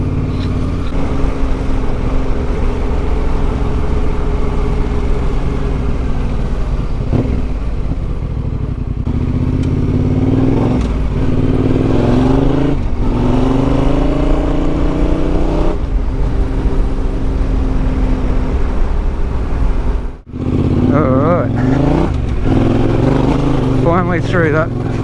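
A motorcycle on Goldentyre GT923 road-biased tyres rides along a dirt track, its engine a steady close drone with rising revs and gear changes, a rider talking over it throughout.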